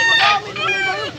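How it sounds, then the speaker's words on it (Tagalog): Chickens at a Cebu fowl market give loud, harsh squawking calls in a short burst, close and dense, with a brief dip before the calls resume. "Gandang mga manok."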